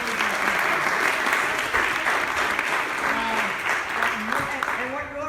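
Continuous crowd applause at a Waldo County candidates forum, with a few scattered voices and whoops audible through the dense clapping.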